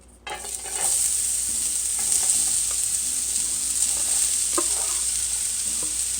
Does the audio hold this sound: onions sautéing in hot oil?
yes